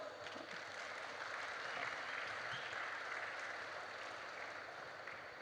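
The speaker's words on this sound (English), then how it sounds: "I think he deserves a round of applause." Audience applause at a world Odia language conference, a steady, moderately quiet wash of clapping sustained throughout with no voices on top.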